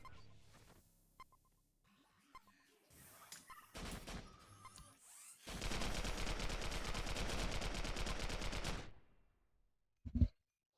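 Desert SMG gunfire in the shooter game Global Agenda: a few scattered shots first, then a long sustained automatic burst lasting about three seconds, loud and steady, followed by a short sharp blast near the end.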